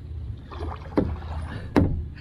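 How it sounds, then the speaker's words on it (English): A kayak pushes through river rapids in Red River Gorge. Two sharp paddle strikes or splashes stand out over a steady low rush of moving water. "There's some rapids."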